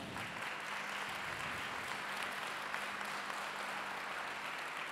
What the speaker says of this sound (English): Go out, give her a round of applause.